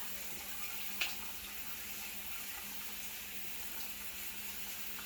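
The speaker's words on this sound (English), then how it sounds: "So I'm going to just rinse off my broccoli." Tap water running as broccoli is rinsed in a kitchen sink, making a faint, steady stream with a single brief clink near the start and no talk.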